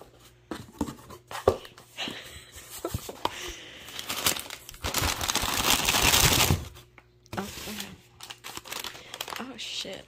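Wrapping paper around a manga package crinkles and rustles in bursts, building to a sustained loud crumpling stretch before quieter handling sounds return; a voice speaks now and then underneath.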